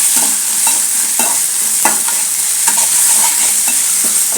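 Tomatoes frying in a pan for egg fried masala rice, a steady loud sizzle with regular clinks and scrapes of a spoon stirring, close up and without voices.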